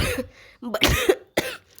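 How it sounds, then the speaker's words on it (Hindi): A few harsh, close coughs in quick succession with brief pauses between, loud and alone. "मुझे फिर से खांसी और नज़ला हो गया है।"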